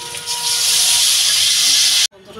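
Water poured into a hot pan of fried potatoes for a Bengali fish curry sends up a loud, steady hiss of steam. The hiss runs for about two seconds, then cuts off abruptly.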